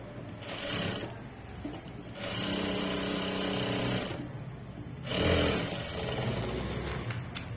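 A sewing machine stitches folded cloth in several loud whirring runs, each lasting a second or two, with brief slower or quieter gaps between them.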